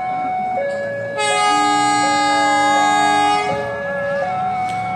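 The Pandalungan passenger train at Jember station in Indonesia sounds its departure horn signal, a loud, close, multi-tone blast whose chord shifts partway through and holds for several seconds without any talking.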